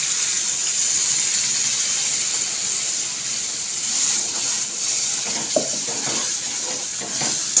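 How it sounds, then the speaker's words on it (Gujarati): Water pours in a steady, continuous stream into a pan of butter-fried garam masala for matar paneer, with a bright hiss and a few soft clinks near the end. "થોડું પાણી નાખીશું"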